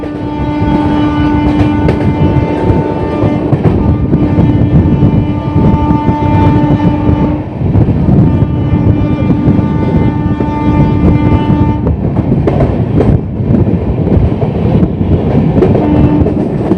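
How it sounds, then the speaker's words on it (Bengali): The Amrit Bharat Express (22587), running from Sealdah to Benares near Dakshineswar station, makes a loud, close, continuous rolling rumble with rail clatter and sustained tonal hums throughout. "শিয়ালদা থেকে বেনারসের নতুন অমৃত ভারত এক্সপ্রেসের জার্নিটা তোমরা এনজয় করতে থাকো"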